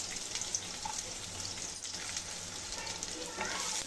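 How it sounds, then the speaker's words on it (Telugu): Chopped onions frying in oil with cloves and cardamom in a pan, a soft, continuous close sizzle with faint stirring, fairly quiet throughout. "ఈ ఆనియన్స్ని బాగా కలుపుకొని గోల్డెన్ కలర్ వచ్చేంత వరకు ఫ్రై చేసుకోవాలండి"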